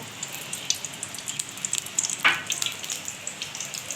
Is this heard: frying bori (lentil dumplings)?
yes